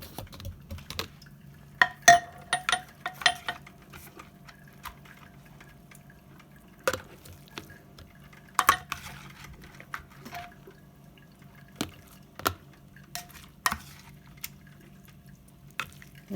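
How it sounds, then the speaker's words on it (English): Salted cabbage being stamped and packed down into a jar for sauerkraut with a tool, giving scattered irregular thuds, taps and wet squelches, fairly close and moderately loud, with quiet gaps between bursts. "And I'm gonna use this thing and stamp it in there, because I want it nice and packed down."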